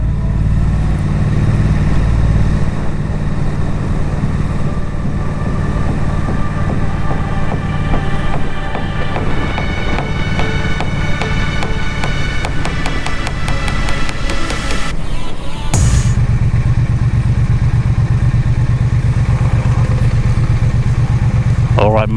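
A 2020 Triumph Street Twin motorcycle engine drones steadily while riding at night, a continuous loud hum with a brief shift partway through, while someone talks over it.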